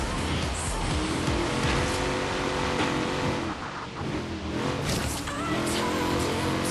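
A racing car in Forza Horizon 3 driving hard through a race, its engine roaring loud and continuous with tyre noise as it takes corners, briefly easing before surging again.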